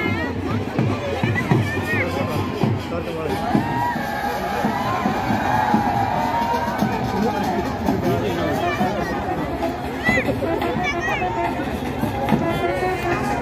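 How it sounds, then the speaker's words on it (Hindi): A large crowd mills about at a Dussehra celebration in Palampur, with dense overlapping chatter and babble, occasional distant shouts and a steady outdoor hubbub throughout. "भीड़ भी कितनी जा रही है"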